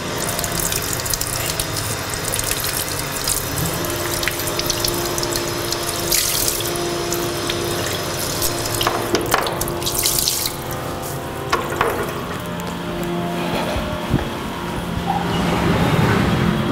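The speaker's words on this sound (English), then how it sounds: "Oh, we have even the luxury of water in this room." Tap water runs steadily into a sink in a lecture room, a continuous broadband splashing hiss that carries on alone from start to finish with small surges and drips.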